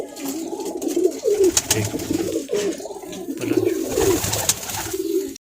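Several pigeons coo continuously nearby in repeated throaty rolls, fairly loud and close, with a brief spoken word in the background.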